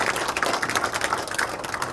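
A forum audience at a year-end gathering gives warm, dense applause to welcome the National Assembly deputy speaker, many hands clapping steadily and close for the full stretch.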